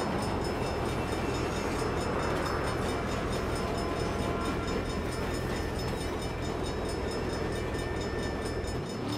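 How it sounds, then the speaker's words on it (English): A train passing in the video game Saints Row, a loud, dense, steady rumbling roar of rail cars and wheels that fills the whole clip. "Crap. Bad time for a train."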